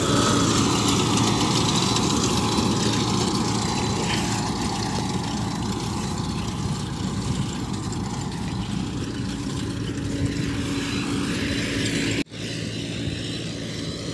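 A road sweeper vehicle collecting rubbish from a street near Besant Nagar beach, its engine a constant loud drone with a steady whine running through it, no talk over it.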